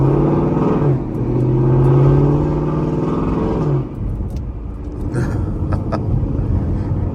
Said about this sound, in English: full Corsa Xtreme exhaust system on the car